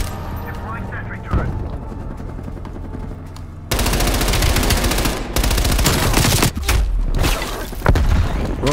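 A sentry turret blasting away in Call of Duty Cold War multiplayer, dense rapid automatic gunfire and booming impacts filling the scene, loud and continuous, with a player talking over the shooting.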